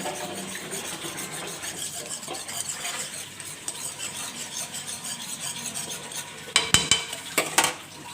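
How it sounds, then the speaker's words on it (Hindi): A spoon stirs white sauce in a pan over a low flame, giving a steady soft scraping and rubbing, with a few louder clinks near the end. "अब मैं इसमें आहिस्ता आहिस्ता चम्मच मारती जाऊंगी या बीटर"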